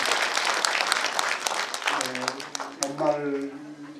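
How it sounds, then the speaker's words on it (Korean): Audience applause at a Buddhist monthly dharma gathering, steady dense clapping that fades as a voice begins speaking over the tail. "스님 큰 박수로"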